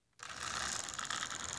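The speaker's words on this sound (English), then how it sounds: "It decoupled and it rolled almost off the end here." Model train car rolling along the track after decoupling, a steady close metallic rattle and gear-like clatter of wheels that starts abruptly and continues evenly to the end, no voices.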